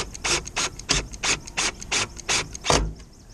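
A ratchet tightens a bolt on an RV air conditioner motor, about nine crisp, evenly spaced clicking strokes up close, the last one heavier.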